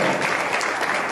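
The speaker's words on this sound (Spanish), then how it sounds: "Un aplauso." An audience applauds at a book presentation honouring Emiliano Zapata, a dense, steady clapping that fills the whole short moment without a break.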